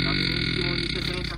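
A man's long, drawn-out belch rumbles from a video being played back, a low guttural croak lasting the whole moment at steady loudness.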